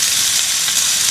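Burgers made with a mix of cheeses including Stilton and extra mature cheddar fry in a small Aldi cook-set pan at a wild camp, giving a loud, steady, close sizzling hiss with no pauses.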